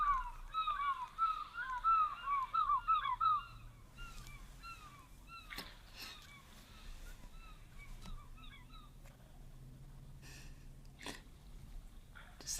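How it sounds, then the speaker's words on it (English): An African fish eagle pair calls from a waterhole, loud, ringing yelping notes in quick repeated bursts during the first few seconds, then fainter scattered calls and other birds over quiet outdoor ambience. "The African fish eagle is such an iconic sound of Africa."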